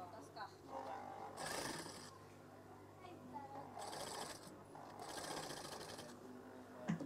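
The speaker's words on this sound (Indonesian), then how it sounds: "Kemudian jahit saja." A sewing machine stitching very thick fabric for curtains runs in several loud, whirring bursts of a second or so each, separated by pauses, with a voice speaking in between.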